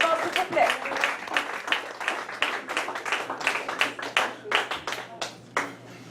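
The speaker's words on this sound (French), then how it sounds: "une bonne main d'applaudissements, s'il vous plaît" Scattered applause from a small audience at a slam session in a Montréal bar, individual hand claps clearly separated in a loose, uneven rhythm that gradually thins out, with a low hum underneath.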